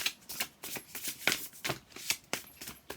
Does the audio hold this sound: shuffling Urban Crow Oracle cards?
yes